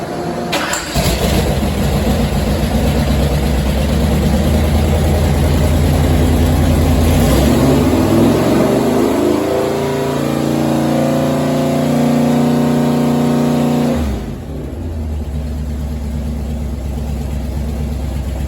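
A 427 Big Block Chevy V8 with a Comp Cams XR276HR roller camshaft runs on a dyno, a loud, deep rumble that sweeps up in revs through a pull, then drops back to a lumpy idle.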